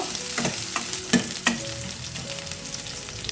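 Onions and curry leaves frying in a pan, a soft continuous sizzle with a few close scraping stirs of a spatula, no voices.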